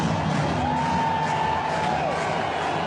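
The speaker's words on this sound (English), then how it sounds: "And this crowd here, oh, are they having quite a time" A big baseball stadium crowd roars and whoops in a sustained, dense wash after a game-tying home run in the ninth inning of a 2000 playoff game, heard at a distance through a radio broadcast.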